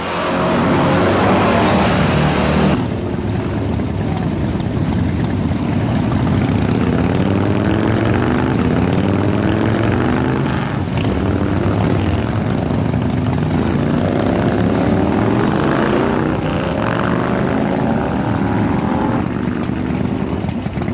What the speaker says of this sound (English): When I see these guys come up with their Triumphs, I just want them to start them up.